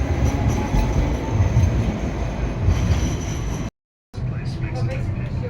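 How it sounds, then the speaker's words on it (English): A large Sydney tram rumbles along its line, loud and continuous, with steady low mechanical noise and faint wheel squeal. The sound cuts out briefly near the end, then resumes. "The trams here in Sydney are bigger than the trams that we actually use in Melbourne."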